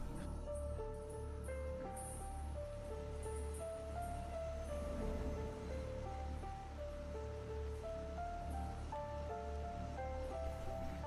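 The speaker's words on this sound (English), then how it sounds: "Rain, yeah." Rain in the Captain of Industry game, a soft, even wash of falling rain heard faintly beneath steady melodic background music, with no talking.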